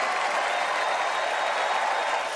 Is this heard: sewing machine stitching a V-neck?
no